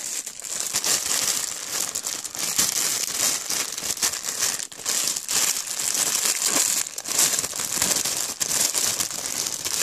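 Plastic film crinkles and crackles continuously up close as a Call of Duty: Infinite Warfare PC Legacy Edition game package is unwrapped by hand, loud and busy with no speech.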